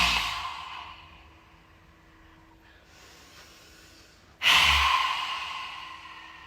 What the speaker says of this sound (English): So let's just do our outward breath.